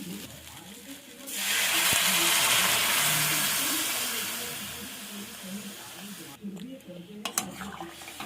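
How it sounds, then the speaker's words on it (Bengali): Water goes into a hot pan of potato curry cooked with garlic, chilli, coriander and turmeric pastes. A loud rushing hiss swells for a few seconds and slowly fades, followed by clinks and scrapes of stirring. "এবার জল দিয়ে দেবো।"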